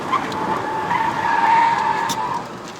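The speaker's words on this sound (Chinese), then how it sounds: "那轮胎一直在叫，尤其是前轮" Tires squeal on a 2014 Audi A3 sedan 1.8 TFSI quattro climbing a mountain road, a sustained, loud tonal screech heard from inside the car, swelling in the middle and holding steady for the whole stretch.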